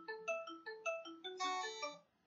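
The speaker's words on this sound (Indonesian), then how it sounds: "ada telepon" A phone ringtone plays a short, bright melodic pattern of rising and falling electronic tones, clear and moderately quiet, then stops abruptly.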